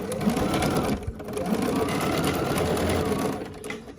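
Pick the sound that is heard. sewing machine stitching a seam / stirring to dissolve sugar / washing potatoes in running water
sewing machine stitching a seam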